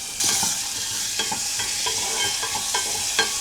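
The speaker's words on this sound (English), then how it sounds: "I'm going to cook this peas" Peas cooking in a little heated oil in a pan for aloo tikki: a bright, constant sizzle with a spoon scraping and stirring about every half second, close and fairly loud, no voices.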